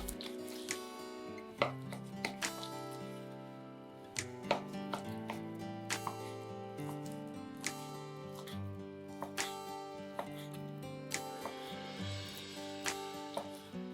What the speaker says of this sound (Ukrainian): Беремо курячу грудку і нарізаємо кубиками.